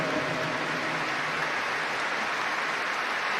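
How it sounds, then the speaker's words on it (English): Dense, distant wash of crowd applause filling a football stadium before the 2017 FA Cup Final between Arsenal and Chelsea, steady and roaring throughout. "Rises with spontaneous applause."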